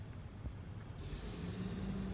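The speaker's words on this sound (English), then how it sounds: "A loud giant truck, a garbage truck." A large garbage truck engine rumbles steadily nearby, a low droning roar with some wind buffeting, growing slightly louder as it approaches.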